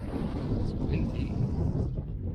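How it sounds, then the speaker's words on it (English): Wind buffets the microphone of a rider on a penny-farthing bicycle, a constant low roaring rush that stays loud and close throughout. "It's windy."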